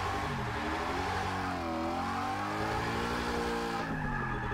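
In Forza Motorsport 6, a car drifts with a sustained tire squeal over a loud, revving engine whose pitch slides up and down. The sound stays close and continuous throughout.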